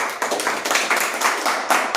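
An audience at a political party meeting in Telangana or Andhra Pradesh claps as office-bearers are announced, producing a dense, fairly loud patter of many hands that swells and dips in short bursts.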